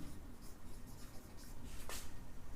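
Pen or pencil writing out a maths solution on paper, soft scratchy strokes in a loose rhythm, faint and close, with one longer scrape toward the end and no speech.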